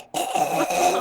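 A person vocally imitating a cartoon baby's cough, one short rough throaty burst after a brief silence, close and alone.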